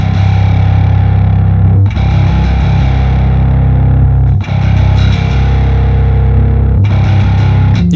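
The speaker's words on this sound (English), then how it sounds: "growl, which is low-end distortion" Bass guitar through a low-end distortion plugin playing sustained, gritty low notes, loud and continuous, with a few brief breaks between phrases.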